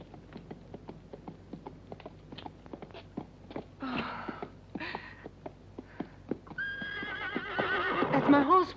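A horse whinnies loudly near the end, following steady clip-clop hoofbeats and a brief rustle from other movement in the scene.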